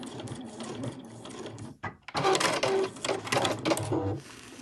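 A sewing machine stitches a line on a fabric sewing machine cover, with a rapid mechanical whirr that stops briefly and then runs again close by.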